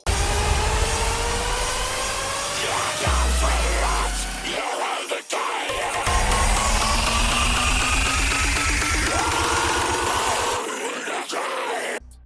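Electronic music build-up stripped of extra effects: dense, loud full-band synth texture with rising sweeps and pounding low bass pulses that drop out briefly, continuous and without voices.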